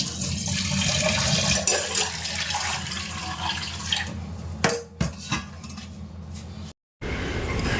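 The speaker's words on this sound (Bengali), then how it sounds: "চাটা করে চায়ের বাটি টাটিগুলো সব ধুয়ে রেখে দিলাম" Tea cups and bowls rinsed under a running tap, with steady water flow and light clinks of crockery throughout, a few louder clatters near the end and a brief dropout before the water resumes.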